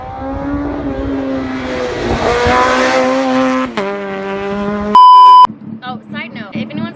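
A Mazda RX7 drifting yields a loud, rising engine whine with tire squeal, then a short steady electronic beep and choppy revs, up close from inside the car.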